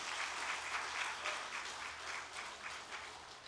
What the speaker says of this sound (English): Please give our chief guest a huge round of applause,